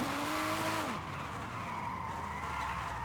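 Car tires squeal and skid under the handbrake in a racing video game, one sharp screech over steady engine drone that fades after about a second.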